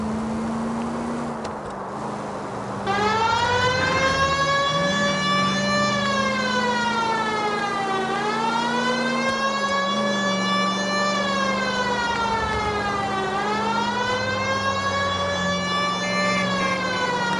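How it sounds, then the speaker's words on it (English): A police car siren in the 1940s Los Angeles video game L.A. Noire wails loud and near, rising and falling in slow repeated sweeps over a low engine drone. "I feel more comfortable with the siren on"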